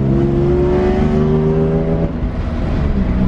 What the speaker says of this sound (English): it has a horrible exhaust leak. I don't know if you can hear that